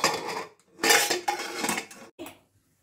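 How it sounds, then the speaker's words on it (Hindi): Metal clanks and scrapes close by as a lid is set and shifted on a pot of dal, a few distinct contacts with a brief final clink. "ढक्कन लगाएंगे।"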